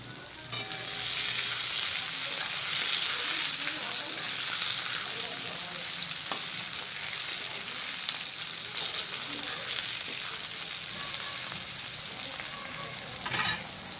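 Chopped tomato drops into hot oil in a boal fish curry, setting off a loud, steady sizzle and crackle that holds through the whole stretch with a brief flare near the end.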